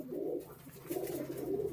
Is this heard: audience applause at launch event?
no